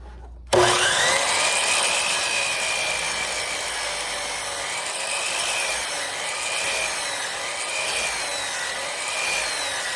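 A miter saw cuts through maple base molding, a loud sustained whine from about half a second in that holds steady to the end, with slight swells as the dull blade bites into the wood.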